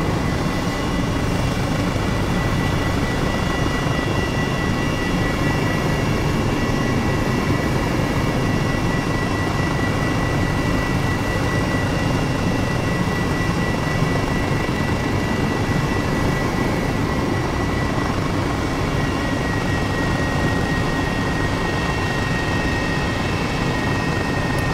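A video-game helicopter sets down between two old hangars at a WW2 seaplane base, its engine and rotors a loud, unbroken droning roar from start to finish.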